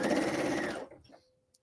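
A sewing machine stitches a tea cozy seam in a quick continuous burst, close and moderately loud, then stops, followed by a few light clicks.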